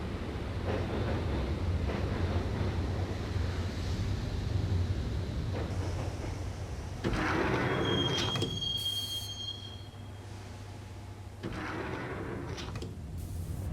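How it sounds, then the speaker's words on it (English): Subway train interior in the Max Payne video game: a steady low rumble of the moving car with squealing wheels, a sliding door thudding shut midway and a high metallic screech, the ride continuing loud and close throughout. "the train doors had already shut behind me, and I was in for the ride"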